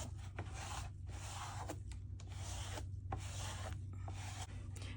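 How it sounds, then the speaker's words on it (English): A sponge wipes excess torch paste off a stencil decal in repeated close, soft rubbing strokes, each a brief scrubbing burst with short pauses between. "I'm going to wipe the excess off of the decal or the stencil"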